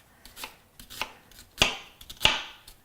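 A knife chops fresh herbs on a cutting board for a plate garnish, four or five distinct, close thumping cuts spaced irregularly about half a second apart, with no speech.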